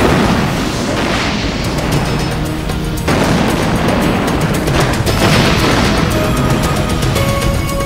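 A loud, rumbling explosion roars and crackles, with a second heavy blast surging about midway, debris-like noise continuing throughout.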